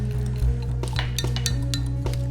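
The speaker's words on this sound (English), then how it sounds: "Mix it all together." A fork mixes tapioca starch into homemade all-natural deodorant in a container, giving a quick series of close, bright clinks and scrapes against the sides over a low steady hum.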